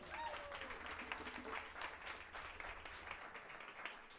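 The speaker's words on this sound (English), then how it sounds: "Can we give a round of applause for Katie Perkins on the congas?" Audience applause at a jazz concert, a dense, steady wash of many hands clapping at moderate distance for the whole stretch, with faint tonal traces of the room early on.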